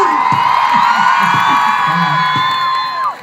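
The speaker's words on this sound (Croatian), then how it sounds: "Da čujem taj vrisak pjevice." A crowd at a live concert in Slavonski Brod screams and cheers in a loud, sustained, high-pitched roar with some shouting voices mixed in, fading slightly at the end.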